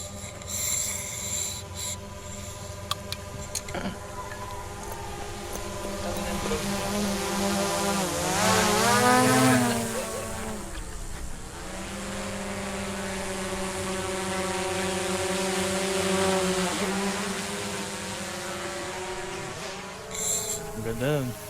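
A steady, whining buzz of small propellers rises and falls in pitch as a drone hovers and moves nearby on Mount Banahaw, continuous throughout.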